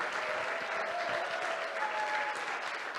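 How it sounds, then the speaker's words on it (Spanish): A church congregation claps after a prayer, a steady, fairly faint wash of applause lasting a few seconds with a faint tonal hum running underneath. "Dele un aplauso grande al Señor."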